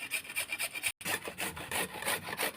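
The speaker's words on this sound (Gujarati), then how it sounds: "છીણી નાખું ગાજરને" Carrots being grated by hand on a kitchen grater, a close, steady series of rhythmic rasping strokes with one brief pause, no talking.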